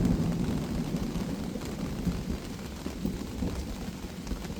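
Dense, steady downpour hisses throughout at a campsite in Darlington Provincial Park, Ontario, a broad wash of noise with low rumbling beneath and no voices.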